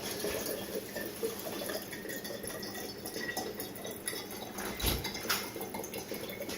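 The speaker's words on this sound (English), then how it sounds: "The other thing you can do is just pour it out into a cup." Coconut water from a whole coconut pours into a cup in a soft, steady trickle and splash, quiet and close, with no talking.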